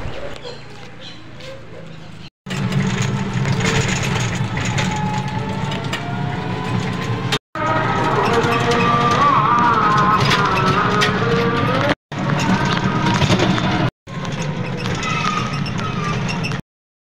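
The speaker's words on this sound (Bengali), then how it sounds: "তো যেহেতু আমি ট্রেনে উঠে গেছি এবার আমি চলে যাবো আগরতলা, আর ট্রেন ছেড়েও দিয়েছে।" A moving train rumbles and clatters steadily, broken by several abrupt cuts, with faint bird calls in the background.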